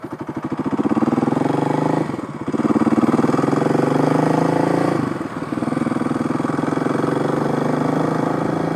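A Kawasaki KLX 351 motorcycle fitted with a big bore kit idles during break-in, a steady loud close thumping putter with two brief dips in rhythm.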